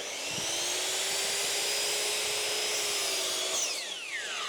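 A voice imitates a drop saw spinning freely through air, a sustained whining buzz held steady for several seconds, then sliding downward at the end as the imitated blade winds down.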